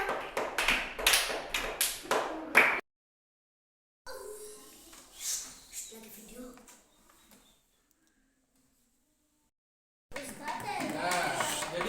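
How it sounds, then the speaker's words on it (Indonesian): Children in an Islamic studies classroom clap together for a classmate in a quick, rhythmic run of sharp claps lasting a few seconds. After a silence, a teacher speaks, followed later by renewed classroom noise. "Kasih tepuk tangan untuk temanya."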